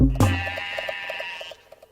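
Sheep bleating in a wavering, pulsing call that begins abruptly with a loud onset and trails off over about a second and a half, heard close and alone.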